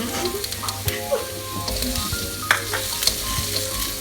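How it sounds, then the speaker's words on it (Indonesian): Mushrooms and onions sautéing in a hot pan give a steady close sizzle, with scattered clinks and scrapes of stirring throughout and no talk. "Nah, kita ini menumis jamur dan bawang ini sampai cukup matang aja."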